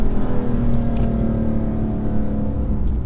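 Steady engine drone and low exhaust burble from a BMW M3 Competition, heard from inside the car, loud and continuous with a rumbling, uneven low end throughout.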